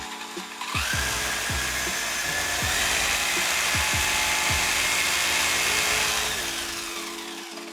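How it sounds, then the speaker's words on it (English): A high whining RC car motor revs up at full throttle with the wheels spinning freely, starting with a few rising pitch sweeps and then holding a loud steady whine before easing off near the end. "So now I'm going to pull the throttle, and we're going to check if the RC tire ballooning still happens."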